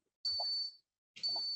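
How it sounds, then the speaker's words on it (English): A door alarm gives two electronic beeps, each a steady high tone about half a second long with a short gap between them, close and clear in a quiet room. "Wait for that dumb door to stop beeping."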